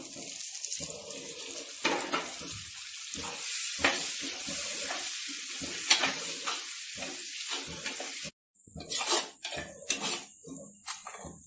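Chopped tomatoes frying in oil in a pan for a Tamil-style fish curry made without ground coconut, a steady close sizzle broken by scraping stirs and clatter, with a brief silent gap before the sizzling resumes.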